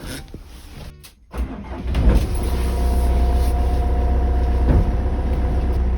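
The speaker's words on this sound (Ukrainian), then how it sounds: "Що ж, тепер заведу буса." A van's engine cranks briefly after a moment of quiet, catches and starts, then settles into a steady, loud running rumble close by.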